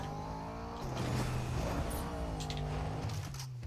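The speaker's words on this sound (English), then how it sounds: "That's such a terrible car sound." A synthetic car engine in Fortnite drones and revs up and down steadily, a buzzy tonal hum with shifting pitch, loud and continuous throughout.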